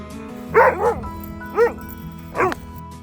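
Yoshi the dog gives a series of high yips and whiny barks, close by and loud, in bursts of two, then one, then one.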